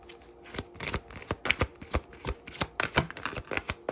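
Tarot cards being shuffled close up in quick, crisp riffling bursts that repeat rhythmically for several seconds, with no voices over them.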